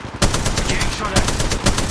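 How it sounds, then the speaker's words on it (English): Gunfire in the mobile shooter Apex Legends Mobile, a continuous, loud stream of rapid shots with a few sharper bursts, close and dense throughout. "Getting shot at."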